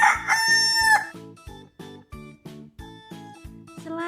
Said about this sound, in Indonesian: Ada juga ayam jago atau in English rooster. Rooster menghasilkan suara.